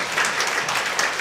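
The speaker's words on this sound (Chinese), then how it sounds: "我们给他们拍手鼓励一下" A church congregation at a Sunday service claps steadily in applause to encourage its kitchen volunteers, a dense, even patter lasting about a second.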